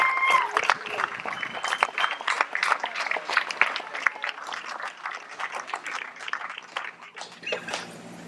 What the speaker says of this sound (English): Can we please give a big round of applause for the family